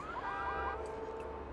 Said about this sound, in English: I try setting off this blue car's car alarm.